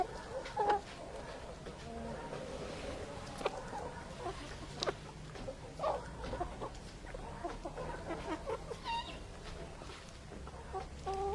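Chickens clucking and murmuring nearby in short scattered bursts, with occasional sharper squawks over a quiet outdoor background.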